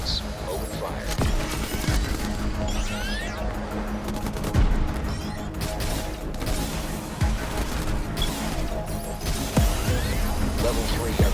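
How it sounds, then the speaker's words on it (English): Gunfire from enemy agents rattles through a video game fight, with sharp shots and bursts over a dense, steady bed of game sound, mechanical clanks and crashes, while a game voice speaks. "The agent is in our sights. Open fire."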